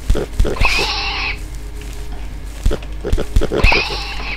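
Pigs oinking in the Minecraft clone MineClone2, several short grunting squeals in two bursts over low game ambience, fairly close.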